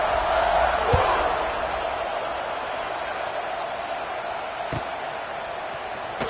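Football stadium crowd roaring after a touchdown and extra point: a broad, steady wash of cheering from a large crowd, loudest at the start and easing slightly, with a play-by-play voice over it and an occasional thud.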